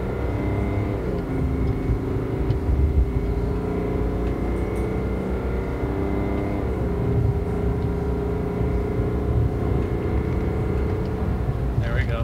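A 2020 Chevrolet Silverado with the 3.0 Duramax diesel pulls hard from a stop to 60 mph while towing a camper of about 14,480 lb, with a steady, loud engine drone and rising harmonics heard from inside the cab.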